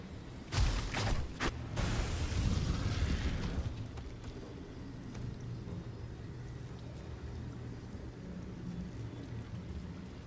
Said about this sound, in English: That's a lot of lightning strikes he has happening around him.